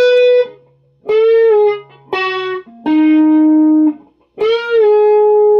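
Distorted electric guitar plays a solo part: several sustained, bent notes separated by short gaps, loud and alone.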